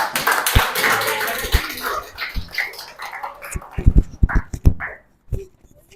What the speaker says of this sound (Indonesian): Tepuk tangan untuk Mbak Alia.